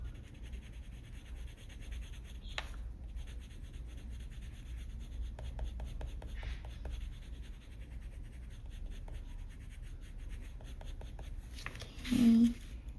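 A Polychromos colored pencil scratches across paper in quick flicking strokes, soft and close, with short repeated bursts of scribbling and a faint voice in places.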